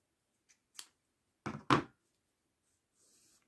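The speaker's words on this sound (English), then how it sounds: "Cut your yarn long enough to stitch it on" Scissors snip through crochet yarn in a few quick, close cuts in an otherwise quiet room, two sharp clips in succession after a faint earlier snip.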